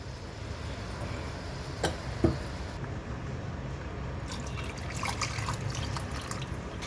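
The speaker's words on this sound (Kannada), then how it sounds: "ಇವಾಗ ನೀರು ಹಾಕ್ತಾಯಿದ್ದೀನಿ ನೋಡಿ." Water is poured into a cooking pot, heard as a continuous soft splashing wash with a couple of brief clinks near the start and a brighter, more splashy stretch toward the end, close and fairly quiet.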